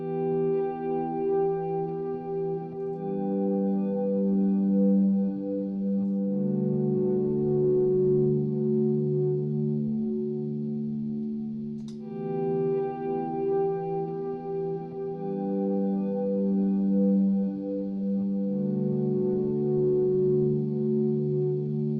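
A layered electric guitar loop with chorus-like shimmer, recorded in record-overdub-play mode on a looper, plays continuously, repeating smoothly without any gap or break at the loop point.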